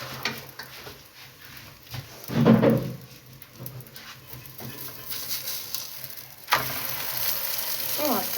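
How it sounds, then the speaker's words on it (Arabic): Whole-wheat layered msemen flatbread dough frying in an oiled pan, with a soft continuous sizzle, a louder crackling burst partway through, and light scraping and clattering of the pan, without any talking. "غادي نديرها في الطوجينه باش طيب. وهنايا نضيف لها شويه ديال الزيت"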